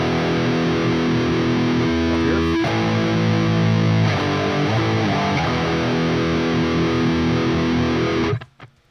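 Distorted electric guitar in a metal style plays a root-and-fifth power chord, held as a thick, buzzing sustained chord with a slight restrike partway through, ringing loud before cutting off abruptly near the end.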